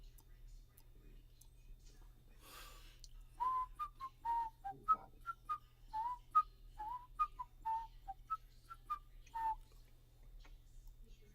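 A person whistles a short, wavering tune of quick notes in a quiet room, close and clear over a low steady hum.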